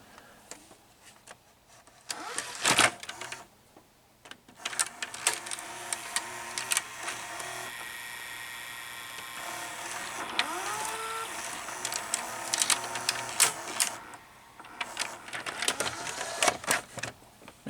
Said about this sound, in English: there is a worm gear here on the right side of the cassette front loading mechanism